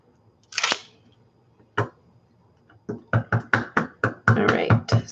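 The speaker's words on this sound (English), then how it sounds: "This stamp pad is really sticky for some reason, so it kind of makes a lot of noise because it sticks to my stamp." A rubber stamp presses onto a sticky ink stamp pad and peels away with sharp tacky smacks. A few spaced hits come first, then a quicker run of repeated pulls, all close and fairly loud.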